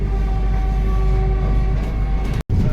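A Vande Bharat Express running from Howrah toward Ranchi just after leaving Kharagpur, near 130 km/h, gives a loud, steady interior rumble with a constant electrical hum and a brief dropout near the end.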